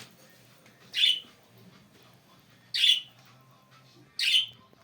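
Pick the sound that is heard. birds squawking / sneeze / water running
birds squawking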